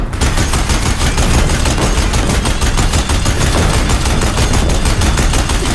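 Deathbringer machines in Horizon Zero Dawn Remastered fire their guns in a relentless, dense stream of loud rapid gunfire that continues without pause for the whole stretch.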